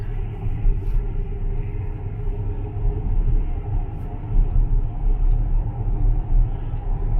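Low road rumble and steady tyre drone fill a Tesla Model X cabin on the highway, a continuous deep hum with no engine note and no voices.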